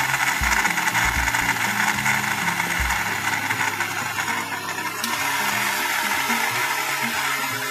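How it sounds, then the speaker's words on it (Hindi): An electric mixer grinder whirs loudly and continuously while making homemade fertilizer, with rattling and shifting grinding tones as its contents churn, close and steady. "ये जो मिक्सी है ये मिक्सी हम चालू कर देंगे"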